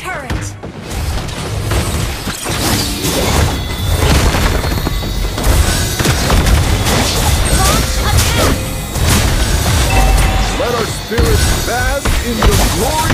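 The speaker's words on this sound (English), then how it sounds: "Your team destroyed a turret!" A turret crumbles in the Mobile Legends mobile battle game during a Lapu-Lapu match, with booming, crashing impacts buried in a loud, dense mix of game effects and music that runs without pause.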